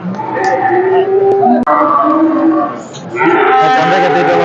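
A dairy cow at the Mele Palayam cattle market on Christmas Day lets out long, loud, close moos, one after another with a short break between, over a background of people talking.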